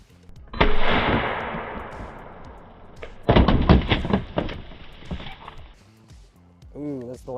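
A .22 LR MP5 firing Mini-Mag ammunition: two loud, sharp, close reports a few seconds apart, each ringing out and trailing off, with a person speaking briefly at the end.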